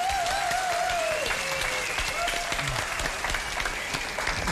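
Studio audience applause for an American guest on a Romanian comedy show: steady, dense clapping throughout with crowd noise and a voice briefly heard over it.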